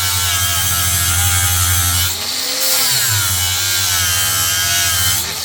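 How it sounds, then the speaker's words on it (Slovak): An angle grinder cutting metal while working on a Land Rover Discovery 1, a loud continuous whine with a low droning hum that briefly drops in pitch and load midway before resuming. "Ešte mi tu vyhorí táto flexa za chvíľu."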